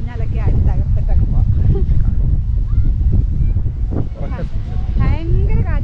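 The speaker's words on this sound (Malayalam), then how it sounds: "ഭയങ്കര കാറ്റ് അതുകൊണ്ട് തന്നെ സംസാരിക്കുന്നത് എത്രത്തോളം ക്ലിയർ ആണെന്ന് അറിയത്തില്ല" Strong wind at a lakeside park at Lakeland Provincial Park near Lac La Biche, Alberta, buffets the microphone with a constant low roar, while a person keeps talking over it.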